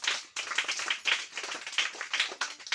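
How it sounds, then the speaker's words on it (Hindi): A group of children in a classroom clapping for classmates, a brief burst of loose, uneven hand claps close by with no talk. "ताली बजाओ उनके लिए एक बार"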